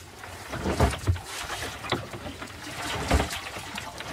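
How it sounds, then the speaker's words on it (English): A loose fuel tank rattling and knocking inside a small boat as it rolls heavily in waves, irregular hard clunks standing out over a wash of water and creaking, with the loudest knocks close by. "That sound you can hear is the fuel tank rattling around."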